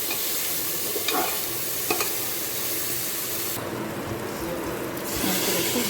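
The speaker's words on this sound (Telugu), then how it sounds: "కావాల్సినంత ఉప్పు, చిటికెడు పసుపు, కొంచెం కారపొడి ఇవన్నీ వేసి బాగా కలుపుకోవాలి." Salt, turmeric and chilli powder are stirred in a sizzling pan while making tomato rice, a continuous scraping and frying hiss that stays close and steady throughout.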